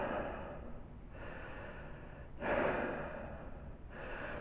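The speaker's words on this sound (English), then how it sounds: "The reason I'm breathing heavy is because this mask makes it hard for me to breathe" Breaths are drawn through a face mask, heavy and close. Long rushing inhales and exhales follow one another in a slow, steady rhythm.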